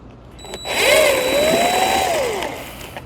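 A power tool whirs briefly while it removes fasteners from a tongue jack. The motor sound rises, then holds a tone that slides up and down for about two seconds before fading. It sounds close and carries no talk.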